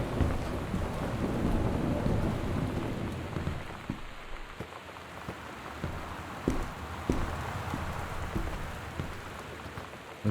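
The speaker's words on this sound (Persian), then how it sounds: "صدا رعد و برقه." Steady rain in a video game, first heavy and washing over everything, then thinner, with sharp close thunder cracks and rumbles breaking through at irregular moments. No voices.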